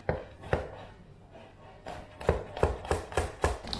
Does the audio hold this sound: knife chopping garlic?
yes